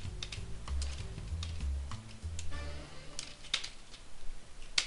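Rapid, irregular clicks of a computer keyboard being typed on, close and fairly crisp, over low background game music with no talking.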